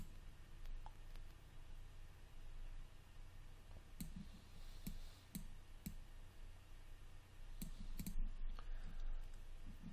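Sharp computer mouse clicks during 3D modeling work in Maya, scattered irregularly as single and paired clicks over a steady low background hum, close and fairly crisp.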